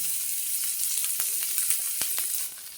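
Onion and green chili hit a little oil in a pan for a catla fish and eggplant curry, giving a steady bright sizzle with a few sharp crackles and pops near the end.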